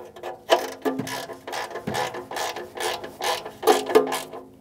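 A hand ratchet clicks rapidly and steadily while turning bolts on the upstream oxygen sensor of a 2013-2018 Toyota RAV4 2.5L four-cylinder, close and clear, with a regular rhythm of strokes.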